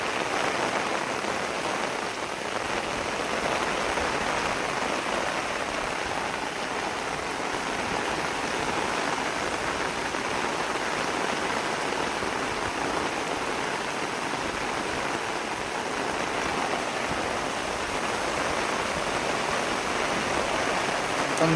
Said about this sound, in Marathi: बघा, पाऊस एवढा पडतोय